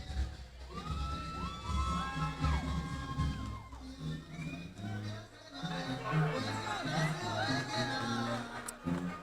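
A boxing crowd in Rialto, California cheers and whoops for fighter Ruben Islas, with loud rising shouts and yells swelling in waves while an announcer's voice carries over the noise.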